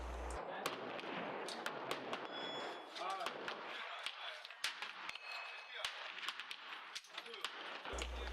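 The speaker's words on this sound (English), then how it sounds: "I'm shooting at the top target, and I'm using Wilson Combat's ammo" A pistol fires Wilson Combat ammunition at a target about 45 yards away, a long string of sharp, fairly faint cracks spaced irregularly over a hissy outdoor background.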